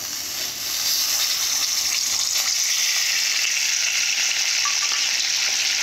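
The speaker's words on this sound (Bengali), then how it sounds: "তো অন্য সাইডে আমি মাছগুলোকে মশলা মাখিয়ে নিয়েছি, মাছগুলো ভেজে নেব।" Spiced fish sizzles steadily in hot oil in a well-heated iron karahi, a dense, loud, continuous crackle with no voices.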